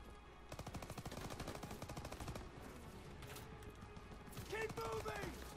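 Rapid gunfire crackles in a Call of Duty: WWII campaign battle, a steady stream of sharp shots under someone talking, ending with a brief sustained tone.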